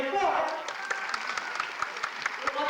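An audience claps at a live show, a scattered round of applause with some sharp individual claps standing out. A voice is heard over it at the start.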